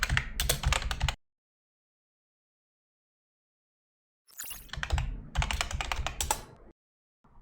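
Quick keystrokes on a computer keyboard come in two close bursts while account details are entered, with a silent gap between them and a brief tap at the end.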